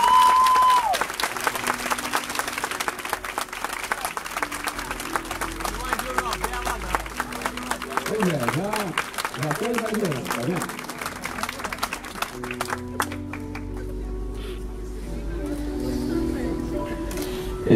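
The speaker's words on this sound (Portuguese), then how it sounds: "que todos possam aplaudir esse momento" Guests at a wedding ceremony applaud after the couple's kiss, lively clapping and cheering with some voices and music underneath, fading into quieter sparse claps near the end.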